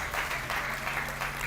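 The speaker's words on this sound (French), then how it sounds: "Applaudissez très fort pour le" A congregation applauding loudly during a church gathering, a continuous wash of clapping hands at moderate level with a faint hum underneath.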